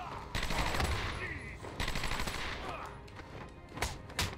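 Enemy gunfire in Batman: Arkham Asylum, clusters of rapid shots over a busy game soundscape, with a louder burst and sharp cracks near the end.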